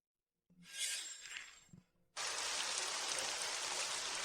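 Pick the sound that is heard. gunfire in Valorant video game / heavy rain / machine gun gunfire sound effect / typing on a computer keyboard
heavy rain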